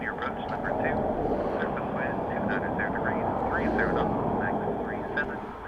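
A fixed-wing airliner landing at Dublin Airport during Storm Floris, a steady broad engine roar with wind noise throughout, while a person talks over it.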